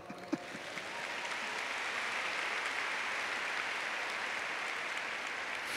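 Audience applause rising after a single sharp clap and holding as a steady, dense wash of many hands clapping together in a large gathering at a Catholic friar's talk, with no voices over it.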